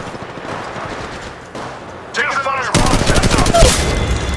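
Gunfire from a firefight in the mobile video game Apex Legends Mobile, building from scattered distant shots to loud rapid bursts in the final seconds.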